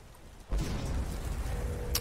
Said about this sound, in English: Look how big the explosion is, and it doesn't reach him.